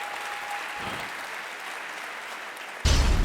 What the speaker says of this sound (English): can we have a big round of applause for Brian, please